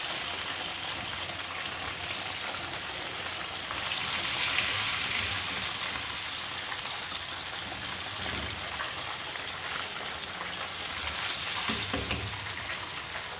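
Chicken pieces for tandoori chicken fry in hot oil with a steady, dense crackling sizzle, close and continuous throughout, with only a brief swell in the middle and no talking.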